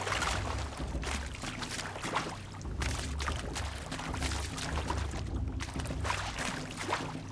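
Aloy swims through water in Horizon Zero Dawn, a continuous sloshing and splashing wash that swells and dips in rhythmic strokes, loud and steady with no talking.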